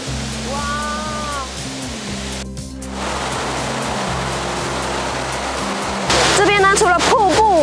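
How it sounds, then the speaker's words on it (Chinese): The waterfall at Ryuokyo gorge in Tochigi makes a constant broad roar of rushing water, loud and steady, with a low hum running underneath and a brief burst of sound near the end. "已经可以听到瀑布的声音嘞"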